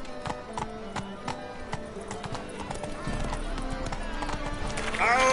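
Roach, a horse in The Witcher 3 video game, galloping with rapid rhythmic hoofbeats under game sound effects and a spoken voice, growing louder near the end.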